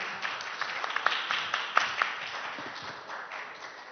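Audience at a startup pitching event applauding as a presenter comes onto the stage: a steady, moderately loud round of many hands clapping, with a few sharper claps standing out, tapering slightly toward the end.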